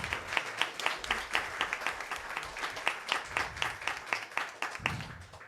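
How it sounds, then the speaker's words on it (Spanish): Audience applauding at a university school's 55th anniversary ceremony, a moderate spread of claps with distinct individual hits, fairly close and steady, tapering slightly near the end. "Un aplauso al colegio."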